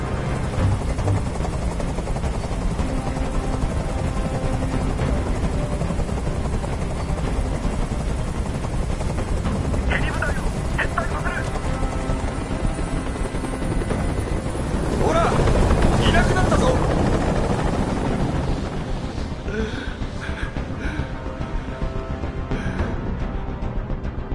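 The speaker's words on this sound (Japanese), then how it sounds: "あの音おかしくなりそうだ。 あのヘリコプターをどこかにやってくれ。" Helicopter rotor noise in the video game Detroit, a steady loud whirring drone that runs throughout, swelling briefly near the middle, with tense voices talking over it.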